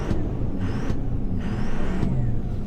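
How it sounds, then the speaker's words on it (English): Engine of a car running while hooked to a Foxwell NT301 OBD2 scan tool, with a steady low rumble and a few brief revs rising out of idle; no talking. "I can hit rev the engine there."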